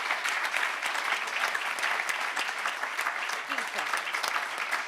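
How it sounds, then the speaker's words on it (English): A room full of listeners at an International Women's Day empowerment event claps steadily in sustained applause at moderate distance, a few seconds of continuous clapping with no speech over it. "So can we all give a round of applause to Rena?"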